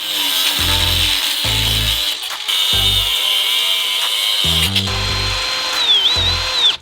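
A high-pitched 4.5-inch cutoff wheel whines steadily while cutting bolts flush on a BMW Z3 driveshaft carrier bearing, with repeated low thumps and clunks from handling the workpiece between cuts.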